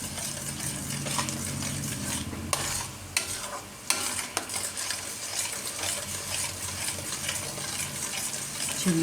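Garlic sizzles steadily in hot oil for a Gujarati garlic and raw mango chutney, a dense close frying hiss with a few sharp stirring clicks and no talking.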